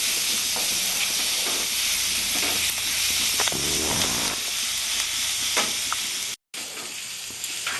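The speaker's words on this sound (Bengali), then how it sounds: "রসুনটা আমি আগে দিয়ে দেবো এটা আমি একটু বাদামি করে ভাজবো" Garlic fries in hot oil in a pan until browning, giving a steady, dense sizzle with faint stirring scrapes, close and continuous apart from one very brief dropout near the end.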